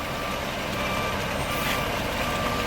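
A front discharge concrete dump truck backs up at a grain bin concrete pour, its engine rumbling loudly and steadily with reversing beeps mixed into the broadband truck noise throughout.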